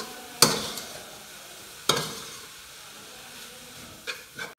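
Spiced chicken filling with chili and lemon stirred in a frying pan, a low frying hiss punctuated by two loud spatula scrapes and a few softer knocks near the end.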